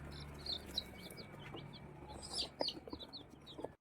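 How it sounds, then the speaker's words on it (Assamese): Chickens and young chicks at a small village shop make faint clucks and high chirps, scattered and fairly distant, with the calls growing busier toward the end. "এইফালে মই আনিছোঁ কুকুৰা পোৱালি দেই"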